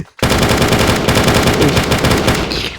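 Rapid automatic gunfire from a Minecraft gun addon, a loud, continuous burst of closely spaced shots lasting nearly three seconds.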